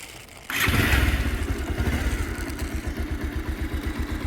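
A 2014 model motorcycle firing up on the first attempt: a quiet moment, then the engine catches abruptly and settles into a close, loud, evenly thumping idle.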